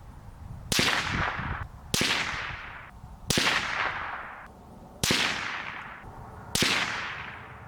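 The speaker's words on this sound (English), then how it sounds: "fired a 5-round group" Five sharp, loud shots from a rifle fitted with an OSS Helix Ti titanium suppressor, evenly spaced about a second and a half apart, each a crisp crack followed by a decaying tail.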